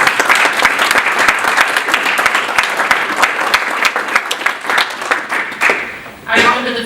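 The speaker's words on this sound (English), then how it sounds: "So let's give these students a round of applause." Loud audience applause for students at an Illinois MBA program event, dense steady clapping from a large crowd that tapers off near the end, with a voice briefly audible over the last moments.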